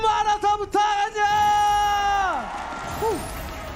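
A crowd at the MPL Arena esports match cheers and roars loudly for several seconds, with sustained shouts and whoops that fade out.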